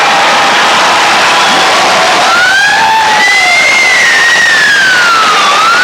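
Hockey arena crowd at the final buzzer of a 1985 Binghamton Whalers versus Baltimore Skipjacks game, a steady loud roar of cheering and applause, with a rising whistle or siren tone sweeping over it.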